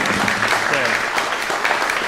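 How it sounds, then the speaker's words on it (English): Audience at a music master class applauding, a short, steady burst of close, fairly loud clapping with a voice faintly underneath. "You applaud again."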